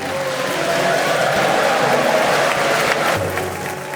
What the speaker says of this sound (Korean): 윤석열 대통령의 연설이 끝나자 미국 상하원 의원들이 모두 일어나 박수를 칩니다